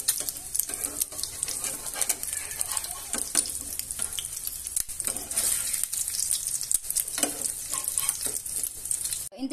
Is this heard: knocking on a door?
no